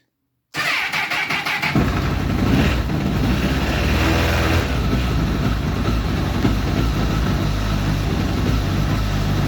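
A Honda CBF1000 motorcycle with about 197,000 km on it starts up for the first time of the season and revs, its engine cranking, catching, then running loud and steady with throttle blips, recorded close.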